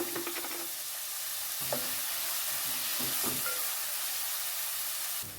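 Chopped onion sautéing in a pan with a pinch of salt, a steady close sizzle with scattered stirring scrapes and clicks, heard alone without talk.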